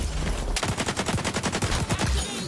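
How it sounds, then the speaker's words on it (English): Rapid shotgun blasts and gunfire from a Domination match in the video game XDefiant, a dense string of sharp, loud reports in quick succession, close up, with no talking. "that shotgun killed me"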